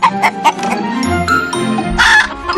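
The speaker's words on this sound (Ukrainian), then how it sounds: "А півник кричить." A rooster crows loudly and close, a strained rising-and-falling call with a few clucks around it and a faint tinkle.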